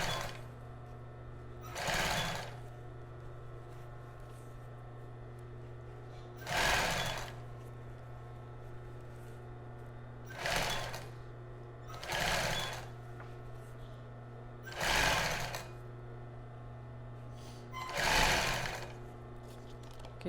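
A sewing machine stitches a child's bra in six short bursts of fast whirring, each a second or two long with pauses in between, close by over a steady low electrical hum.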